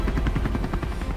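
Rescue helicopter rotor chop, a steady loud rapid thudding beat with heavy low rumble and broad engine noise, heard close and continuous with no voices.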